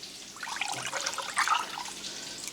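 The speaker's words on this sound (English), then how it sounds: "I'm gonna pour this into another container." Strained hot chili oil poured from one container into another, a steady soft trickle and splash of liquid running on for a couple of seconds with a slightly louder burst midway.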